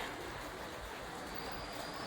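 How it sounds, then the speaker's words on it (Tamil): A passing train gives off a steady, loud rumble of wheels on rails with a faint high squeal running through it, close by and unbroken. "இந்த பக்கம் பார்த்தாலும் ட்ரெயின் இந்த பக்கம் பார்த்தாலும் ட்ரெயின்"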